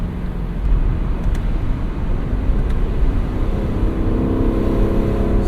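Lexus LC500 convertible V8 engine humming and droning steadily from the cabin during a gear shift, with a low continuous rumble and no distinct rev spike.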